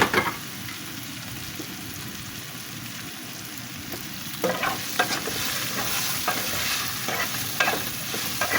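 Okra fries in a pan with a constant crackling sizzle. Later, louder clattering scrapes come from stirring, in irregular bursts near the microphone.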